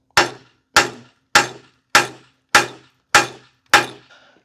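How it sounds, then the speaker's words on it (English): An 8-pound sledgehammer knocking a Dana 30 ball joint out, seven loud, evenly spaced metallic blows about half a second apart, each ringing briefly before the next strike, with no talk. "8-pound sledge took care of it"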